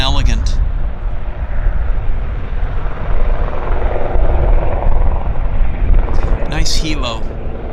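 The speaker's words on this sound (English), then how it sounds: "Nice helo." A helicopter lifting off and flying near Vancouver airport makes a loud, continuous rotor and engine roar throughout, close by. Brief voices come in at the start and again near the end.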